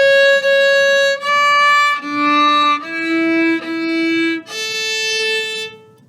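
A viola plays the closing two measures of a beginner string exercise, a series of sustained bowed notes moving from higher to lower pitches and back up, clear and close with no talking.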